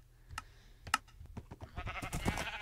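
Sheep bleating in a survival video game, a few short wavering bleats and clicky game noises, building into a longer, louder bleat near the end, fairly close.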